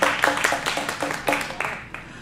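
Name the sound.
hand clapping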